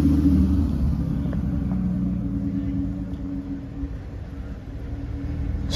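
A classic roadster's engine runs with a low, steady rumble that swells slightly, heard at a vintage car rally.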